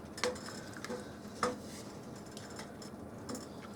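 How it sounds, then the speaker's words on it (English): A few light metallic clinks and taps of a lid being set on a pot of Spanish rice on the stove, faint and spaced out over quiet kitchen background. "I'm just going to put the lid on it and just let it go."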